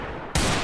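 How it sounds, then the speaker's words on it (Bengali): A single loud gunshot burst goes off abruptly in a shooting video game, landing a headshot and followed by a sustained roar. "এই তো ছোট এগুলো একটা হেডশট মেরে দিলাম"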